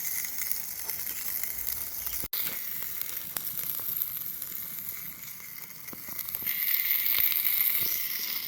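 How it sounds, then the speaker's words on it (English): A T-bone steak sizzles over a homemade wood fire grill outdoors, a steady crackling hiss running throughout with a brief dropout, swelling a little louder toward the end. "it is sizzling"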